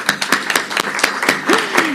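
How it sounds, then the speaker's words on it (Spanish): A church congregation claps together at a Spanish-language service, steady rhythmic applause of many hands at close range with a brief voice or whistle-like sound mixed in. "Vamos a seguir agradeciendo al Señor con otro fuerte aplauso"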